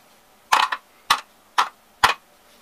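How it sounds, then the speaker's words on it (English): A screw is worked loose on a Vaughan & Bushnell 804 hand plane with a cast frog assembly, giving four short, close, gritty creaks at roughly regular intervals, with no talking. "Now the screw comes loose."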